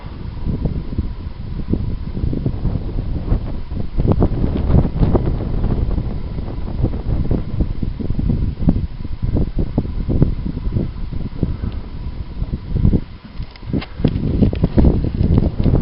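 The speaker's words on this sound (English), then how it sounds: "Sorry about the wind. The camera's probably picking it up." Steady buffeting wind rumbles and thumps against the microphone throughout, with gusty low-frequency bursts and no voices.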